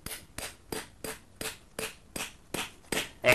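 Caravan annexe pegs hammered into the ground, about nine sharp, evenly spaced strikes in a steady rhythm, close and clear with no talking.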